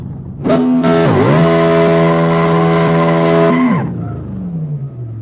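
Car accelerating hard at full turbo, its engine note climbing loudly through the gears with quick dips at each shift before easing off and fading to a lower tone at the end.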